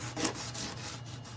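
Plumber's burnishing tape rubbed briskly over the end of an old wire to strip off the old coating, giving close, rasping strokes in a quick back-and-forth rhythm with no talking.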